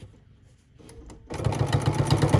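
Sewing machine stitching a fabric handle on a trick-or-treat bag: a quiet pause with a few clicks, then a steady fast motor whir with rapid needle chatter running to the end.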